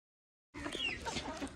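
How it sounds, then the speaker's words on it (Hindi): Chickens on a poultry farm let out a few brief clucks and calls close by, cutting in abruptly after a moment of silence. "दोस्तों अभी जो है ये देखें हमारे पास यहाँ पर मुर्गियाँ हैं।"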